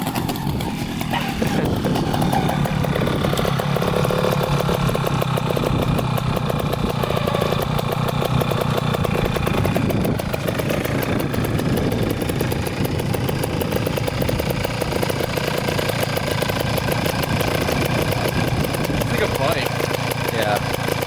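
A Beta 270 dirt bike engine idles continuously, a loud, steady mid-pitched buzz for about twenty seconds, with voices mixed in underneath.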